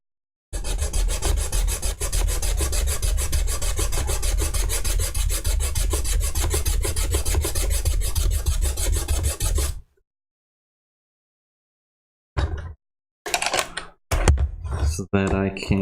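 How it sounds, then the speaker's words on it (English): A wooden UGEARS hurdy-gurdy part is sanded by hand in close, steady rasping strokes for about ten seconds, then it goes silent before a few short bursts of talking. "only sand where I need to."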